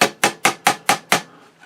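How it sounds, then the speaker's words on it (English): Six sharp, evenly spaced taps from a nylon-faced hammer on a Singer 66 sewing machine, close and fairly loud, each fading quickly before the next, with a faint seventh at the end. "I'm going to tap with the nylon side of my hammer here."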